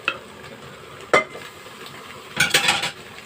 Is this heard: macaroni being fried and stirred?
yes